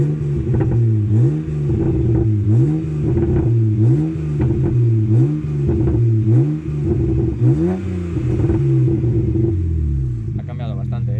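A BMW 335i E92 with the N54 engine and a manual gearbox, tuned to 400 hp, idles with its exhaust valves open, making a loud, deep, lumpy burble that pulses in a steady rhythm, with a voice talking faintly alongside.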